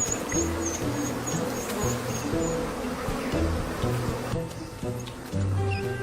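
African honeybees buzzing, a steady dense drone from many insects close by with faint higher whines drifting over it, continuous for about six seconds and not mixed with speech.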